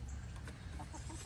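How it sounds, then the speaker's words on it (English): Chickens cluck softly in short, scattered calls against a quiet, muffled background. "the chickens come in here."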